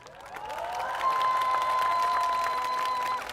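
Audience applause at a Korean presidential candidate's political rally, building within a second into sustained, dense clapping from a large crowd, with a bright tone ringing over it.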